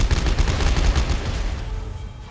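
Rapid bursts of gunfire in the video game Dead Space 3 fire in a dense, continuous volley that rumbles heavily and fades slightly toward the end.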